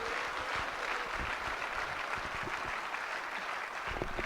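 Dense audience applause at a stage event in Bihar, steady and sustained throughout, with sharp individual claps and scattered cheers standing out near the end.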